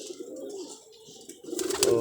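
A pet pigeon perched on a rooftop coos in soft, low, repeated calls, close by, rising into a louder coo at the end with no talking.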